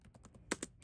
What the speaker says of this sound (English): Let's type in Windows Defender